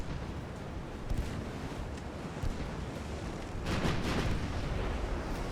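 Battleship turret guns of the USS Nebraska fire in Ultimate Admiral Dreadnoughts, a deep rumbling boom swelling out of constant sea and wind noise near the end.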